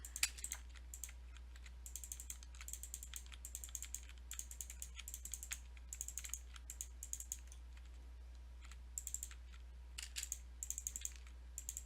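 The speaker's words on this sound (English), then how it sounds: "probably hear my mouse clicking in the background" Rapid, light clicking from a computer mouse or keyboard while building in Minecraft, quiet and close, in irregular bursts and single taps over a low steady hum.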